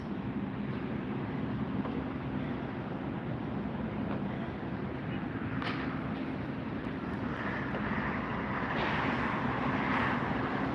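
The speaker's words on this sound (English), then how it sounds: "Meanwhile, EVA Air is now taxiing out." A steady, fairly distant jet roar of an EVA Air widebody airliner taxiing at LAX on a sunny day, continuous engine drone with a slight tonal whine, no talk.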